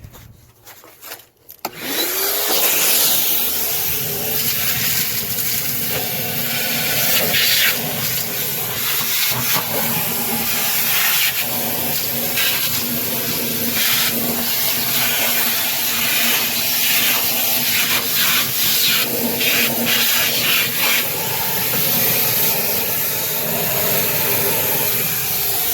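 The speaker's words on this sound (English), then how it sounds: "We're going to go ahead and give it a good vacuuming just to get it all cleaned up in there." Vacuum cleaner sucking ash and dust out of the firebox of a Traeger BBQ075 grill: the motor starts with a whine, then holds a loud, steady roaring hiss with scraping and rattling from the nozzle inside.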